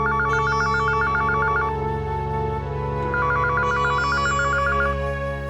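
Telephone ringing indoors in a family home, giving two bursts of rapid trilling electronic rings separated by a short pause, loud and steady over a constant background hum, with no talk.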